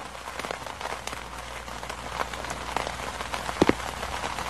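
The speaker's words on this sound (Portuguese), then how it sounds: "Tá, tá chovendo aqui, né?" Steady rain falls in the horror video game Clown Phobia 3D, a dense, even patter with a few sharper drops landing nearby, heard alone without any talking.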